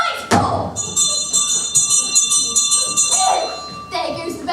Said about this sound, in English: Oh, there goes the bell for afternoon games.